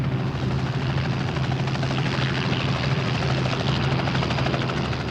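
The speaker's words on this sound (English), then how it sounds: "the helicopter hovers near the fishing vessel" Steady, loud helicopter rotor drone with a constant low thump and engine whine, continuous throughout and close by, hovering near a fishing vessel.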